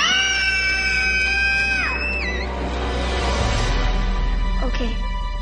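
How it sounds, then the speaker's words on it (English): Loud sustained screaming from several people, high shrill voices holding long cries that break off and shift pitch midway, then rougher yelling continues over a low hum. "We're done screaming now, sir."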